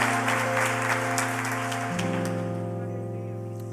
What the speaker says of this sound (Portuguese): Você pode aplaudir bem forte a Jesus nessa noite